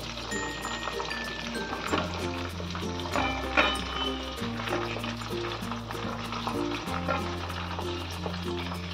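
Chicken lollipops sizzle and crackle steadily in hot oil, a dense continuous frying hiss with small pops, with a low music bed playing underneath.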